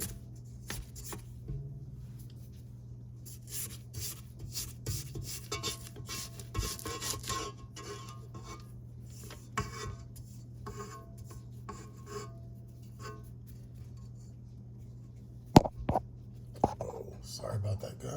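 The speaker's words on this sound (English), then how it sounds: "I'm gonna go ahead and scrape the bowl down" A spatula scrapes down a mixing bowl of ginger molasses cookie dough, with repeated soft rasping strokes close by, a low kitchen hum underneath and a sharp clack near the end.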